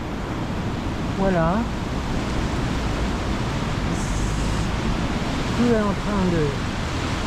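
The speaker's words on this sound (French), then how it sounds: "Ça déborde, c'est impressionnant, hein, le litre d'eau qu'il y a." Continuous rushing roar of the flooding Seine river spilling its banks in town, loud and steady, with someone speaking briefly over it.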